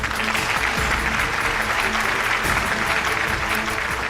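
A studio audience at a university quiz show claps to welcome a contestant from Sulaimani Polytechnic University, a loud continuous wave of applause that stays even throughout with no voices over it.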